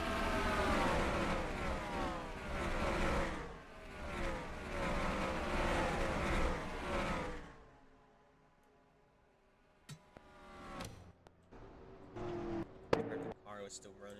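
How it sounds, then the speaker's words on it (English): Race car engine in a racing video game, droning loudly with repeated rising and falling revs for several seconds, then cutting off to near quiet with scattered clicks and small bursts of sound. "The car was still running."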